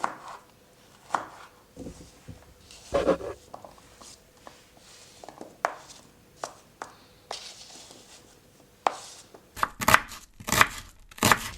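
A knife chops fruit into small pieces on a cutting board, with irregular sharp thuds and taps that are near and fairly loud, quickening into a dense burst of rapid cuts toward the end.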